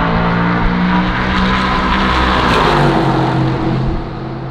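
A Ferrari 488 Challenge race car roars past at close range, a loud sustained engine howl with no talking, the sound easing off in the final half second as it moves away.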